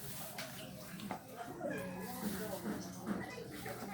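A cat meows a few times indoors, with voices talking around and over it.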